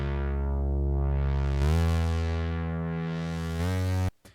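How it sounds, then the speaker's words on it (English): A Prophet synthesizer plays a sustained, harmonically rich tone. It holds steady, then brightens and opens in sweeping filter swells before cutting off abruptly. "The Prophet sounds like this."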